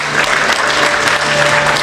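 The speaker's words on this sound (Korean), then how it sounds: "박수로 환영하겠습니다" A crowd at a book concert in an arts center hall gives loud, dense, sustained applause to welcome a university president as guest, with many hands clapping together throughout.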